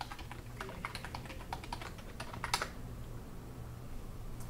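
Keystrokes on a computer keyboard as a new password is entered while setting up a self-hosted Mattermost chat server, a quick run of close, light clicks with a slightly louder tap near the end, no talking.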